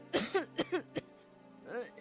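A quick fit of five harsh coughs in rapid succession, then a pause and one more cough.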